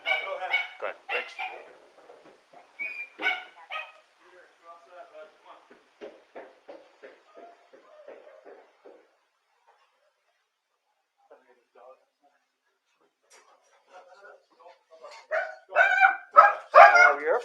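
A dog barks repeatedly in a house where the dog was in the basement, giving sharp, fairly faint yips and barks in bursts, busiest at the start and again loudly at the end, with a quiet gap in between.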